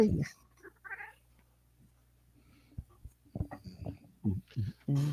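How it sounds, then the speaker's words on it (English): A male house cat trying to take over a table meows a few times close by at the start, then a person begins talking over faint background hum. "My cat's trying to take over the table, so I'm gonna let him have it."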